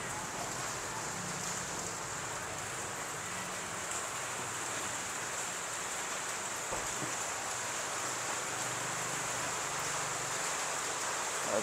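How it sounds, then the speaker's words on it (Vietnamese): Heavy rain pours steadily in a Saigon street, a dense continuous hiss that stays even and unbroken throughout at low-moderate level, with faint voices underneath. "Mưa to luôn anh em ạ."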